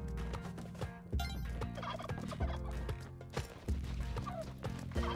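Turkeys gobble in the cave-exploring platform game Spelunky 2, rapid repeated gobbling calls over upbeat game music and clip-clop footsteps, fairly quiet and without talk.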